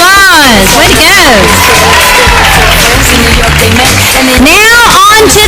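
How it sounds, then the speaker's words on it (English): A crowd at a high school pageant erupts in loud cheering, whooping and high-pitched shouts over applause, a dense, saturated roar close to the microphone. "Let's give her a round of applause."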